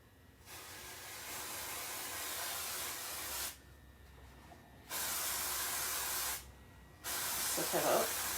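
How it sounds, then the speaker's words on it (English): Freeze spray used while decorating a 3-D pancake-shaped cake hisses in three steady bursts with short pauses between, close and fairly quiet. "that was just some of our freeze spray stuffy"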